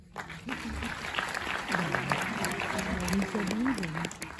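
Audience applause at a cinema gathering in Montreuil, a steady patter of clapping from a modest crowd, moderately loud and filling the room, with a low hum and faint voices underneath.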